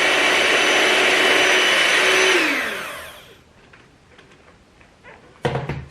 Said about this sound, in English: So my mixer only has 1 setting, that's level extreme.